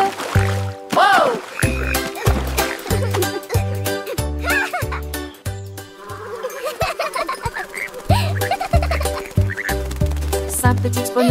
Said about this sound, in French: Puis ils coassèrent une chanson